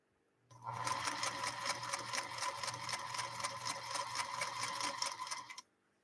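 A 1952 Singer sewing machine, the jammed, shorting-out "Princess of Singers," stitches in one steady, whirring run of about five seconds, a close, even mechanical hum with rapid ticking that starts and stops cleanly.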